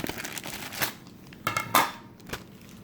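A taped-shut plastic bag crinkles and crackles in a few short, close bursts, separated by brief quiet pauses.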